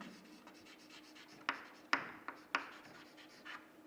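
A formula written by hand, close and faint: soft continuous scratching of strokes punctuated by several sharper taps and ticks at irregular intervals.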